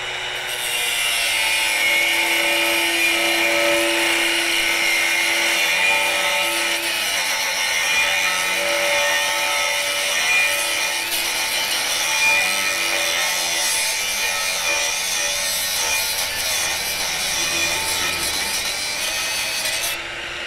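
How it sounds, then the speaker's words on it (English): A Hercules brushless angle grinder fitted with a cutting wheel slices through 3/8 inch thick steel, giving a loud, steady, high-pitched grinding whine that carries on without a break for about twenty seconds, with no talking. "how is the Hercules when it comes to cutting 3/8 inch thick metal? Well, let's find out. We got a cutting wheel on there."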